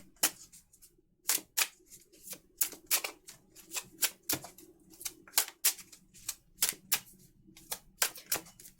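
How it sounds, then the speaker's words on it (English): Rapid series of sharp, crisp clicks and snaps in an irregular rhythm, close and fairly quiet, as a tarot card deck is riffled and handled, with no talking. "I love the way this deck of cards shuffles."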